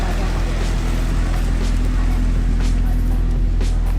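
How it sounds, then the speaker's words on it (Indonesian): Idling exhaust of a 1971 Alfa Romeo 2000 GTV 105-series coupe, a steady low rumble held close and loud for the whole stretch, with a faint breathy hiss above it. "kita boleh dengerin suara knalpotnya?"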